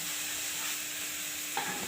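Spices sizzle steadily in hot oil in a pan while being stirred for an elephant foot yam curry, a continuous close frying hiss with a faint scrape of the stirring utensil near the end and no speech.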